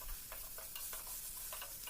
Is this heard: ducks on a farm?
no